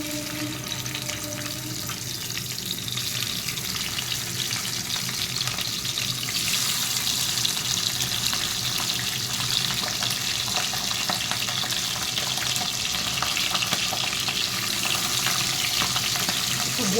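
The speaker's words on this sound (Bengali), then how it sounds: "মাছটা ভাজছি দেখো ছিটকাচ্ছে" Fish frying in hot oil in a home kitchen, spattering in a steady, dense crackling sizzle that runs unbroken throughout, close and fairly loud, with no voices.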